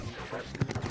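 A ship in the Star Fox 2 video game fires at a boss's eyes, a brief burst of rapid blaster shots, punchy and close.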